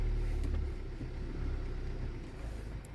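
An Audi B8 A4 engine idles low on fuel with a steady, deep rumble, close and even, with no voices over it.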